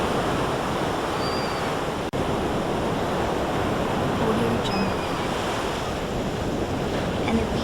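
Ocean waves wash onto a beach at the seaside in a continuous broad roar of surf with wind buffeting the microphone, steady and close, one brief dropout midway.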